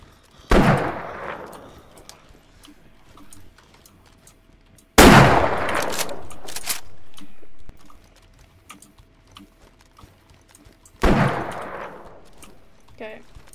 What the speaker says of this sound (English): what was that shot, Toby?